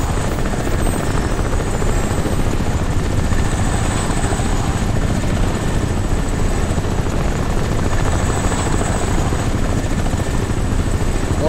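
A helicopter in the video game Crysis Remastered drones steadily and loudly throughout, a continuous rotor and engine roar with a high whine on top and no break or talking.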